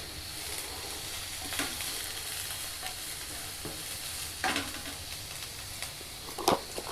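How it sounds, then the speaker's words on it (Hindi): Bell pepper and carrots sauté in a pan with a steady, quiet sizzle, interrupted by several scraping stirs of a utensil against the pan. "बस इसे थोड़ा सा सौते करेंगे।"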